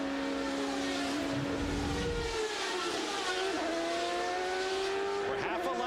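Champ Car race car engine heard onboard at the 2003 CART London Champ Car Trophy during a restart, a steady high whine with rising and falling pitch as the car accelerates and shifts, with a commentator's voice over it.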